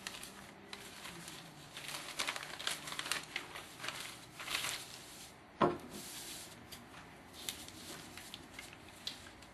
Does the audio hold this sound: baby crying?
no